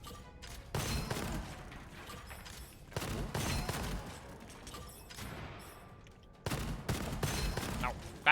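Bursts of gunfire from the first-person shooter game Gunfire Reborn, three loud volleys of rapid shots with crashing impacts, separated by quieter stretches of game noise.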